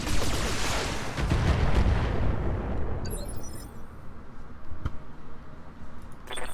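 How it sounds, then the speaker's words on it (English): A BattleTech mech blows up in a loud, rumbling explosion with heavy low boom that tails off into crackling debris and smaller bursts. "Mech destroyed. And just full of explosive goodness."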